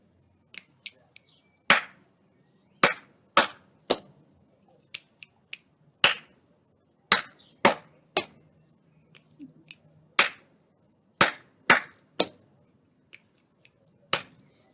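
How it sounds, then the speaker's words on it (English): A teacher performs a body percussion sequence of claps, pats and finger clicks, sharp isolated hits in an uneven rhythm repeated twice, close and clear over quiet room tone. "Clap, clap, pat, click, click, click, clap."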